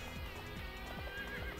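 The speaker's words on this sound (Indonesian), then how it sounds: "ini kudanya Liu Bei" Liu Bei's horse in Dynasty Warriors 3 on PlayStation 2 gives a faint, brief neigh over steady game background sound, with no talk.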